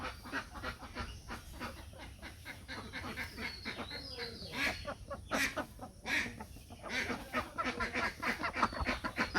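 Ducks quack and chatter in a busy flock close by, with pecking and scuffling sounds mixed in.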